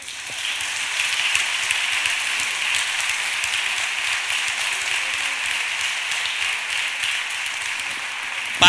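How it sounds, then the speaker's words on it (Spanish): Audience applause at a carnival proclamation event in Bornos, a steady wash of clapping across a crowd, moderately loud and sustained without a break. "Pido un aplauso muy fuerte para todos ellos"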